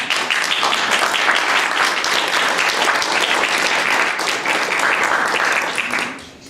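At a school board meeting, the room applauds the parents of an Eagle Scout. A dense, continuous wash of clapping holds steady at close range, then tapers off at the very end.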